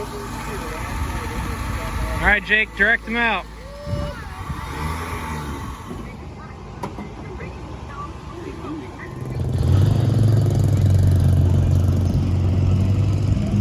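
An affordable race car's engine idles and then swells into a loud, steady, low rumble up close, arriving after people talk over a quieter background hum.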